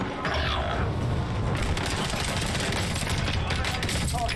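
Dense, continuous gunfire rattles in a Warzone video game match, with overlapping rapid bursts and booms forming a loud, unbroken barrage throughout.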